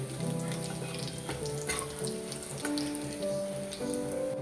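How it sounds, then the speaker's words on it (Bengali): Whole cumin, bay leaf, dried chilli and whole garam masala fry in hot oil in a kadai, giving a soft, steady sizzle with small crackles that runs throughout at low volume, with no voices. "এখন কড়াইতে যে তেলটা রয়েছে ওই তেলেই আমি ফোড়ন দেব গোটা জিরে, তেজপাতা, শুকনো লঙ্কা আর গোটা গরম মশলা।"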